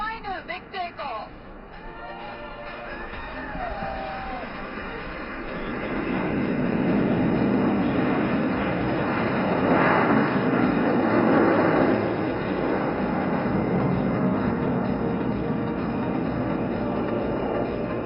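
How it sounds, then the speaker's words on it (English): A military aircraft takes off at the Aero India 2025 air show at Yelahanka Air Force Station. A voice is heard briefly at the start, then a loud, sustained engine roar builds after a few seconds and holds steady. "And here's the third and final big takeoff."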